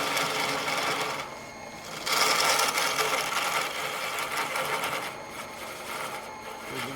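A parting tool cuts into a spinning workpiece on a lathe, making a continuous close rasping whir that swells and eases in a few waves over several seconds, with no voices.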